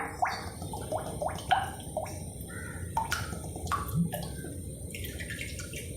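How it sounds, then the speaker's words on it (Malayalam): Sesame oil poured into a hot clay pot for a Kerala-style lemon pickle drips and patters in quick uneven bursts, close and fairly clear over a low background hiss. "അപ്പോൾ 100 ഗ്രാം നല്ലെണ്ണ ഒഴിക്കുന്നുണ്ട് ഞാൻ."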